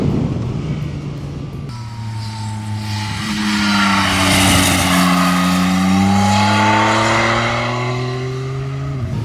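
A motorcycle brakes hard into a slow corner during a brake pad test, its loud engine note dropping and rising through the gears as it decelerates and pulls away, close and alone without talk.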